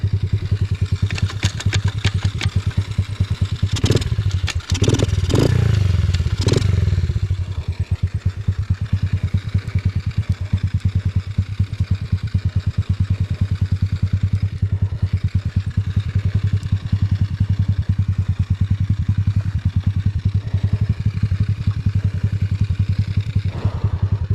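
An Apollo RFZ X4 pit bike engine running while being ridden on soft ground, a buzzy mid-pitched single-cylinder drone held steady, with a few sharp revving bursts and clattering early on, close and loud throughout.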